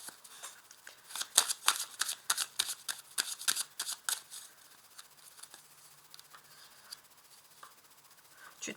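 Tarot cards being shuffled and drawn during a French-language card reading, giving a quick run of crisp riffling and slapping card sounds up close, then quieter rubbing and sliding as the cards settle.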